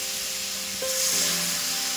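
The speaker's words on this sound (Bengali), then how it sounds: "টমেটোটা আমি খানিকক্ষণ ভেজে নিয়েছি, এবার জল দিয়ে দেবো।" Tomato fries in hot oil in a pan, giving a steady, close sizzle that swells slightly partway through, with faint stirring scrapes and no talk.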